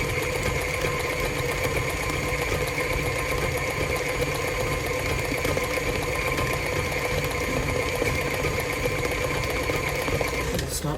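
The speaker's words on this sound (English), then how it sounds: "We're going to let that beat for 1 minute." An electric mixer beating pound cake batter runs loud and steady with a constant whirring motor hum, unbroken for about ten seconds before cutting off at the end.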